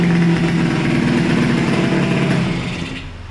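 A Yamaha DT 200 motorcycle with a modified, louder exhaust runs steadily with a loud, raspy buzz, holding an even idle before easing off slightly at the end.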